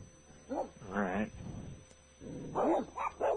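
Dogs indoors bark and yip in several short bursts, fairly faint and somewhat distant, with brief gaps between them.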